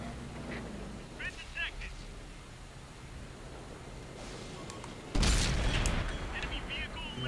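A tank cannon fires in World of Tanks with a single loud, broad boom about two-thirds through, then a sustained rumbling roar. Game noise and quiet talk fill the moments before it.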